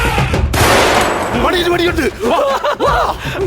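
A sharp tranquilizer-gun shot aimed at an elephant bangs near the start with a long echoing tail, followed by voices talking and chuckling.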